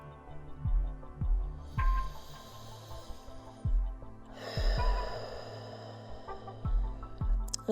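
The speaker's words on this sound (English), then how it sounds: "Strong inhales and exhales through your nose." A yoga practitioner takes strong breaths in and out through the nose, several audible inhale-exhale cycles, close and soft in a quiet room.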